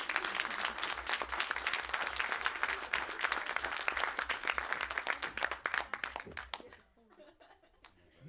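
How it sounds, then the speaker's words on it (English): A large crowd claps steadily at a 2021 Master Media, Culture & Society graduation ceremony, dense and sustained for about seven seconds before thinning to a few scattered claps. "it's time for you to enjoy all the applause again"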